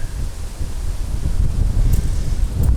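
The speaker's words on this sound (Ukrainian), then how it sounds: "Тепер треба почекати, поки вітер трохи утихомириться" Steady wind gusting outdoors on a riverbank on the Southern Bug River, a low rumbling roar against the microphone that swells slightly toward the end.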